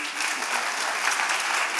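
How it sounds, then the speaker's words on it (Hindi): Loud, dense applause from an audience for the cast of a children's festival stage play about revolutionaries, a continuous roar of many hands clapping with no voices over it. "सभी कलाकारों के लिए जोरदार तालियां"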